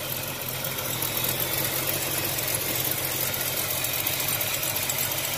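A 1965 Pontiac LeMans GTO engine idles outdoors in the high desert, with a steady, close, rough rumble and a faint knocking under a broad wash of noise.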